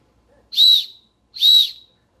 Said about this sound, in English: we also have the Nightcore NWS10 titanium whistle. We'll go ahead and give that a blow.